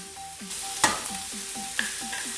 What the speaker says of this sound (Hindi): चिकन ऐड करने के बाद बारीक कटे हुए 2 अदद प्याज ये ऐड करते हैं हम।